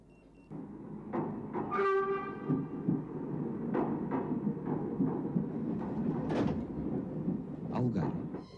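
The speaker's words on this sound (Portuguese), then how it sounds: "Estes comboios estão cada vez mais pequenos." A passing train rumbles loudly and unevenly with clattering wheel noise and a brief horn-like tone early on, while voices speak over it.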